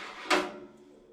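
A food dehydrator drawer slides out in a single short scraping pull, fairly close, with a quick rise and a trailing rattle over faint room noise.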